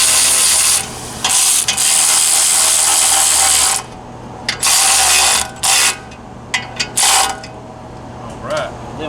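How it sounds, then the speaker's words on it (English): A ratchet wrench tightens the center exhaust bolt on a CFMOTO UFORCE 1000 side-by-side, loud close clicking in a long continuous burst, then shorter spurts of ratcheting separated by pauses. "I'm gonna go ahead and tighten that center bolt up top"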